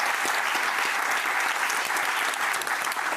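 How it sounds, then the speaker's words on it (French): Dense, steady audience applause for Christophe fills the whole stretch, a continuous wash of many hands clapping with no talk over it. "je voudrais vraiment qu'on applaudisse très fort Christophe avec nous."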